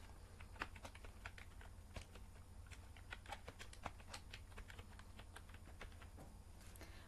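Someone types on a computer keyboard while entering data in an MS Excel spreadsheet. The key clicks are faint and continuous, with a quick, uneven rhythm and no voices.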